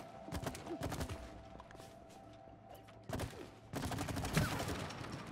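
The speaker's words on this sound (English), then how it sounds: "Okay, I'm shooting." Gunfire from shooting in the video game It Takes Two, quiet rapid bursts of sharp shots in clusters separated by short pauses, with distinct volleys near the start and again after the middle.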